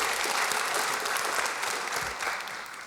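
Sustained audience applause at an award ceremony, a dense steady clatter of many hands that fills the whole stretch and eases slightly toward the end, with no talk over it.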